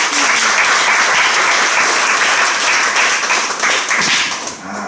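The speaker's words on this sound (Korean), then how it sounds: "우리 다 함께 즐거운 마음을 가지고 박수 한번 드리겠습니다" A congregation at the dedication service of Full Gospel Shalom Church claps together in a loud, close, dense round of applause that tapers off in the final moment.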